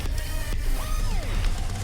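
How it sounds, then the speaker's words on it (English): Birds sing along a forested stretch of the High Peak Trail in Derbyshire, a few clear sweeping chirps over steady low rumble of cycling and wind, moderately near. "Can hear the birds singing."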